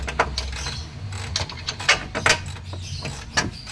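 Bolt being worked out of a Toyota Avanza suspension during a bushing replacement: loud, close metallic clicking, ratcheting and scraping in an uneven rhythm, with no speech.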